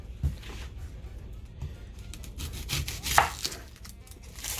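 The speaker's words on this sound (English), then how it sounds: "I'm just going to chop the ends" Scattered knife strikes on a cutting board while chopping the ends off vegetables, a few soft thuds and one sharper chop, near and fairly quiet over a low hum.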